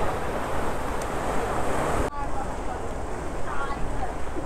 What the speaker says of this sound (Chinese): 哇，好大浪啊！